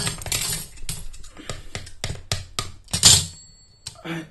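Scissors scraping and tapping across the Gorilla Glass 2 screen of a Samsung Galaxy SIII, a series of short, close, sharp scratches and clicks in an irregular rhythm, with one brief bright squeak near the end.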